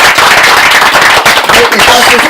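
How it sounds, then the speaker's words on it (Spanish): An audience at an evening talk and book event breaks into loud, dense applause that fills the whole stretch, with voices mixed into the clapping. "quiero dar un aplauso entonces a esta primera pasada de ustedes"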